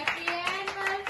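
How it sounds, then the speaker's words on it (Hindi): A small family group claps in quick, even rhythm at an uncle and aunt's anniversary celebration with cake, with a sustained voice over the claps. "ताली बजाओ सारे"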